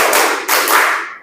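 Students in a classroom clap hands in a counted rhythm, producing a short, loud burst of synchronized claps that trails off quickly.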